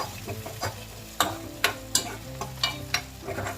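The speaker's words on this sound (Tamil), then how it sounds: "இது கூட வந்து 2 பச்சை மிளகாய், ஒரு 2-3 பீஸ் மட்டும் தக்காளி போட்டு நல்லா வதக்கிக்கலாம்." Green chillies and tomatoes sautéed in sesame oil for a Tamil vatha kulambu, with a steady sizzle broken by several sharp spatula scrapes and stirs against the pan, close and alone without talk.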